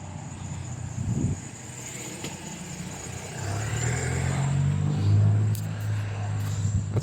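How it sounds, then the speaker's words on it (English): A taxi car engine grows louder as it approaches, a low rumble building over background insect chirping, with a brief thump early on. "I can hear a car coming"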